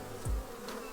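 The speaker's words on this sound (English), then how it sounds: "the bees have accepted her" Honeybees buzz at a recently split hive with a newly introduced queen, a faint, close, continuous hum lasting under a second with no voices.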